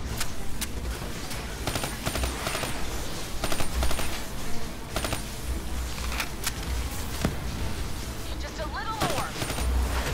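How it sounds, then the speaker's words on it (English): Sustained automatic gunfire fills a Call of Duty: Black Ops III firefight, with dense overlapping bursts and sharp shots both near and distant, over a constant loud battle din. "Still don't know who's shooting at me"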